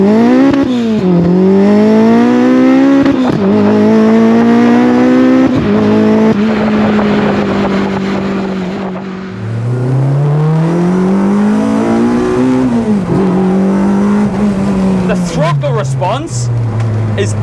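Honda Integra DC5 fitted with a K24 engine accelerating hard, the engine note climbing through repeated gear pulls with brief dips at each shift, loud and close throughout, with a voice talking over parts of it.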